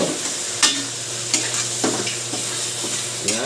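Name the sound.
squid being added and frying in a pan for adobo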